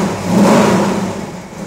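Dodge Challenger V8 with a six-pack setup of three two-barrel carburetors revs loudly and close by, its deep, throaty roar swelling and then easing off over under two seconds with no talk.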